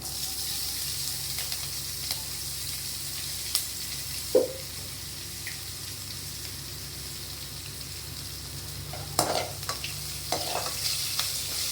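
Cashews and green chillies frying in a pan, a soft continuous sizzle with occasional clicks and scrapes of a spoon, close but fairly quiet, no speech.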